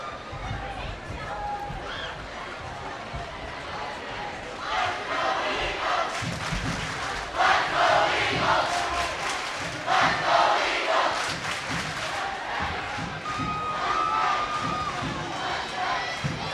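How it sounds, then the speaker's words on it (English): Gym crowd of high school basketball fans during an overtime period, a steady roar of cheering and shouting with louder swells midway and near the end, no clear talk over it. "I have to give it to the Eagles crowd. They're a little bit louder today than the Mustang fans are."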